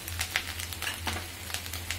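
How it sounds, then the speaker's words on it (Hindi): Masala paste of ground spices, turmeric and coriander powder frying in a pan for a restaurant-style bhindi gravy, a steady soft sizzle with faint crackles and scraping stirs, fairly quiet with a low hum beneath. "पीस के हमने पेस्ट बनाया था, वो डालेंगे, उसको फ्राई करेंगे"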